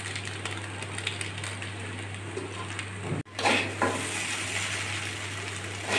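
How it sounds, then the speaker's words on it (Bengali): Masala being stirred into Maggi noodles in a pan over low to medium heat, a soft steady scraping and sizzle with a low hum beneath and a brief sharp clatter midway, close and alone. "সুন্দর করে মশলাটা মিশিয়ে নিচ্ছি"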